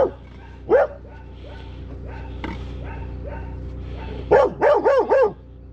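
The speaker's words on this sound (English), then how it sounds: "Oh my goodness. Attack dogs." Several dogs bark in short bursts, one early yelp and then a rapid run of four or five loud barks near the end, with a steady low hum underneath.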